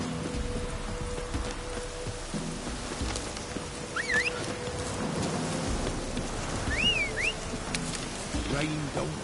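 Steady rain patters across the scene in The Witcher 3 video game, with a few brief high chirps on top and no clear thunder.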